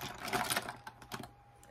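A concealer container rattles and clicks in a short burst of sharp plastic taps and scrapes while makeup is being applied, loud at first and then fading into a few lighter clicks.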